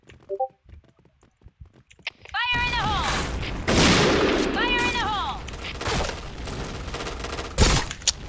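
Video game gunfire: after a quiet start, a dense stretch of loud shots and rattling bursts, mixed with chirping electronic game tones and a sharp blast near the end.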